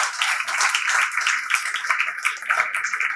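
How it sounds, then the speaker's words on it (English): A small audience at a school education talk gives a brief round of clapping, a dense patter of hand claps lasting a few seconds with no talk over it. "Can we get a small clap?"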